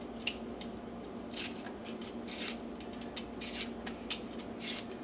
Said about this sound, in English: First thing to do is peel some potatoes.